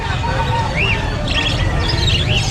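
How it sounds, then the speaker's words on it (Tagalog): Many caged birds at an outdoor pet market chirp and tweet in short, overlapping calls over a constant low rumble of crowd and market noise. "napakaraming ibon ni Boss Marvin."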